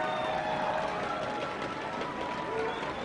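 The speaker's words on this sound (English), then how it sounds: "Crowd chanting, pumping up Solo Mid." A crowd in an esports arena at a League of Legends-style match cheers and chants in a steady, distant wash of noise, sitting under game sounds with a few faint tonal effects and no clear words.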